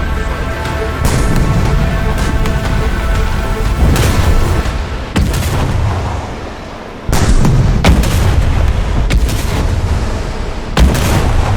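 Sturmtiger rocket artillery fires in War Thunder, loud booming shots and blasts repeating every couple of seconds over a rumbling battle background, with no speech.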